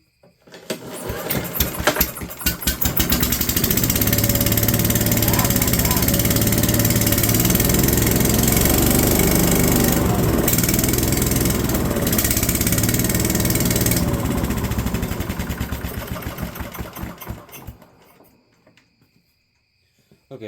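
An old abandoned junkyard machine's engine sputters to life and runs loud and raw for about fifteen seconds, a harsh, rattling exhaust drone, before cutting off into silence.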